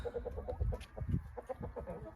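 Free-roaming hens wander outside an open run near a henhouse, clucking in quick, repeated low bursts close by, several birds overlapping in a busy, continuous chatter.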